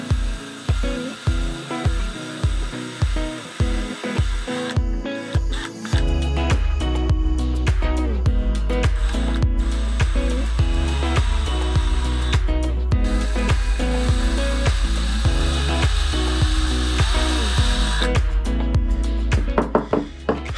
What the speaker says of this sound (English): Take my drill right off of the ice auger and